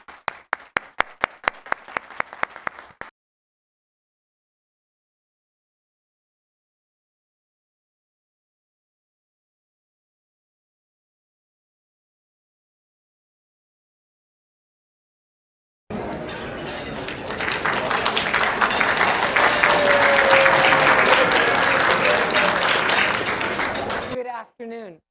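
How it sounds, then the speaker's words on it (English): Audience at a community foundation luncheon gives a round of applause: a few seconds of clapping, a long silent gap, then sustained loud applause from a large crowd, swelling and fading. "Let's have a round of applause for all of our Legacy members."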